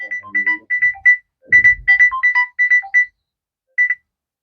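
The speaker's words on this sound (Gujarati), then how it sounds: "જો ઉભા રહી મારે ફોન આવી ગયો" A mobile phone rings with an incoming call, a bright repeating electronic ringtone in short bursts, loud and close, with brief low rumbles of movement and no talking.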